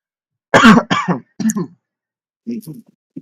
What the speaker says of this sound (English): I've been coughing for weeks, bro.